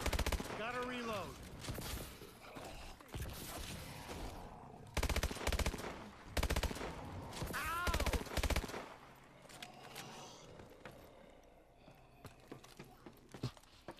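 Rapid bursts of video game gunfire in Call of Duty Advanced Warfare Exo Zombies, sharp repeated shots in clusters under excited voices talking over the action.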